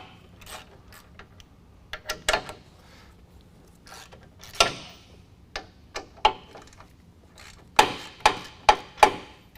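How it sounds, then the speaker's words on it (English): A 15mm socket on a ratchet loosens the front tow hook bolts on a 2019 Chevy Silverado 1500, giving scattered clicks and knocks, then a quick run of four sharp, evenly spaced ratchet clicks close by near the end. "we're going to be taking a 15mm socket and we're going to remove these 3 bolts in the front"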